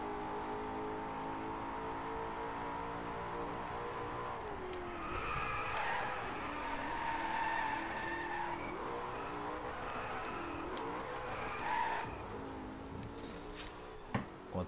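Tires skid and squeal through a long drift in the racing game Driveclub, a sustained screech layered over a revving car engine, with brief quieter dips and a few sharp ticks near the end.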